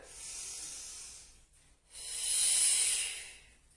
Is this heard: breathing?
yes